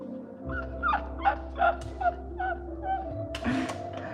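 A dog gives a series of short, evenly spaced whimpers and yips at close range over a steady background hum, ending with a sharper bark-like burst.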